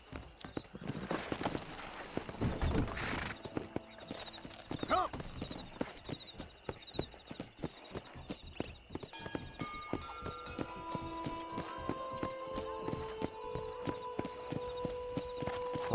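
Horse hooves clip-clop at a walking pace in the Western video game Red Dead Redemption, with rhythmic hoofbeats among game ambience and scattered tones, continuing through the whole stretch.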